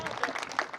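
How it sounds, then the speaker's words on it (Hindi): Indoor audience at a Hindi poetry recital clapping for a poet, a short burst of scattered claps with a voice speaking over it. "एक बार आप सभी से निवेदन करता हूं कि जोरदार ताली बजाइए उपेंद्र भैया"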